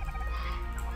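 A low, continuous squawking gobble from a Dodo bird in ARK Survival, a steady, fairly faint fowl-like call with no voices.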